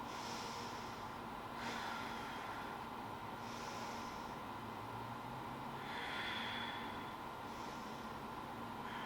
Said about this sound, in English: 2 big powerful breaths